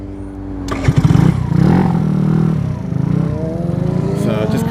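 A Venom X18 DF50SST small 50cc motorcycle engine buzzes and revs while being ridden in the rain with a freshly tuned carburetor, loud and close, rising in pitch with a rattling clatter.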